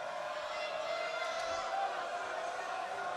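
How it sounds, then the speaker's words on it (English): A steady, dense roar of a wrestling crowd in the Impact Zone arena during a TNA No Surrender 2012 match, a continuous wash of voices building in anticipation of another suplex. "Impact Zone crowd anticipating a third"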